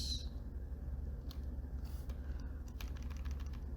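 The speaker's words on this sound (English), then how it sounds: "here I'm going to start typing" Typing on a computer keyboard, a quick run of light clicking keystrokes over a low steady hum, close and fairly quiet, with no talking.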